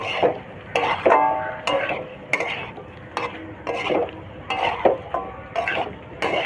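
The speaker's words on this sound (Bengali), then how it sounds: "এই আলুর টুকরোগুলো দিয়ে এবার এগুলো খুব ভালো করে একসঙ্গে নেড়ে চেড়ে নেব যেন গা মাখা হয়ে যায়" Potato pieces coated in spices are stirred in a pan, giving repeated scraping and clattering strokes in an uneven rhythm over a soft sizzle, close and fairly loud.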